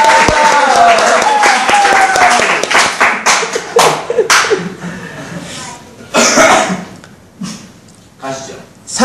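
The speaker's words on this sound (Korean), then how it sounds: "박수 한번 쳐줍시다, 학생들" Students applauding in a church service, a burst of clapping mixed with coughs and scattered taps that thins into short spatters and fades in and out.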